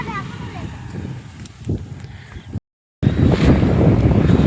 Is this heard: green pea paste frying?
no